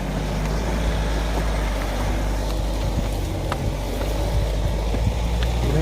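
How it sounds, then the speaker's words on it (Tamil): A Mahindra Thar off-road vehicle climbing up a rock, its engine a steady low drone with rumbling at a moderate distance, under outdoor ambience and faint scattered knocks. "இந்த ராக்கில் தான் ஏறி வரப்போகுது வண்டி."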